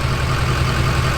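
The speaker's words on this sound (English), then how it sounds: "Your exhaust is way too loud." A pickup truck's loud exhaust idles close by, a steady, deep, low rumble with no other sounds over it.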